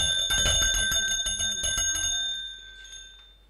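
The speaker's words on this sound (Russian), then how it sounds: "берет колокольчик" A handbell rings repeatedly to call a collective-farm meeting to order, bright metallic strokes in a quick run that fade away over a few seconds, with no talking.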